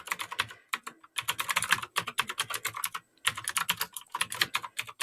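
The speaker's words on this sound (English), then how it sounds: "I told you, it's my crazy keyboard." Rapid clattering of keys on a loud computer keyboard, heard close and alone in quick bursts, with two short pauses between runs of typing.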